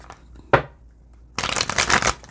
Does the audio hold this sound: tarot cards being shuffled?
yes